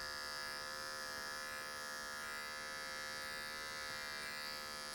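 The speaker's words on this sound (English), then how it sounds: "So we're just going to take the bottom 2 or 3 teeth of this adjustable clipper, and that's going to grab those few hairs." An adjustable electric hair clipper buzzing steadily while cutting hair for a low fade, a close, continuous whine with no speech over it.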